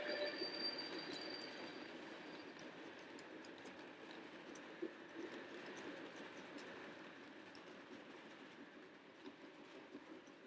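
A model train runs steadily with a faint metallic rolling hum and occasional light clicks, fairly quiet and continuous.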